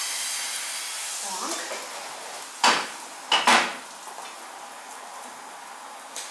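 Pancake batter sizzles in four frying pans in a home kitchen, a steady soft hiss broken by a few sharp clinks of pans and utensils, with a brief spoken word.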